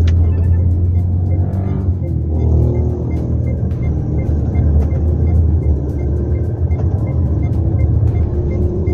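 A Mitsubishi Montero Sport GT 4WD cruising on a test drive, with a steady low engine and road rumble from inside the cabin, smooth and even throughout with no talk.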